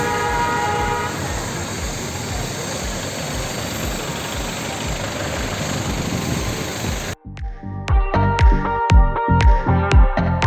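The Darjeeling toy train runs through the Batasia Loop, a dense steady rumble and clatter of the mountain railway that gives way to sharp rhythmic clanks and a horn-like tone near the end.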